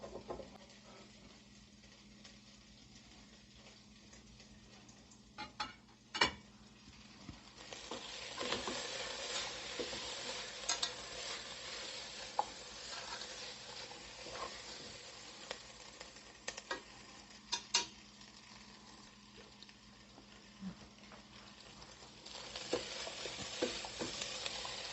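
Minced garlic sizzles softly in a hot pan while being stirred, with a faint steady fry rising partway through and scattered scraping clicks from the utensil, no voices.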